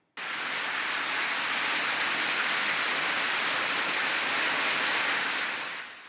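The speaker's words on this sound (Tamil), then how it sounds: "தமிழகத்தின் பல்வேறு பகுதிகளில் கனமழை பெய்து வருகிறது" Heavy rain pours down steadily in Tamil Nadu, a loud, unbroken hiss of dense downpour that starts abruptly and eases slightly near the end, with no voices.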